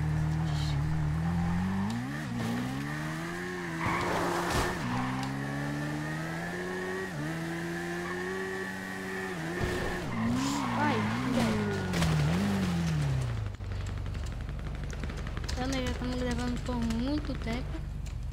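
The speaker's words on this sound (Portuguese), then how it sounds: "Eu só vou dar só mais um testinho drive nessa moto aqui." A motorcycle in the FiveM video game revs and accelerates through rising and falling engine pitch for most of the stretch, with brief tire-like squeals, before the engine drops away near the end.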